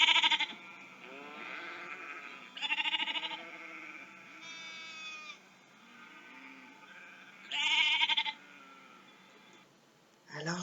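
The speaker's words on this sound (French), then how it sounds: "et aussi les moutons qui bêlaient pour accompagner la musique" Sheep bleat to accompany music: several loud, wavering bleats close by, separated by quieter stretches of softer, overlapping bleating.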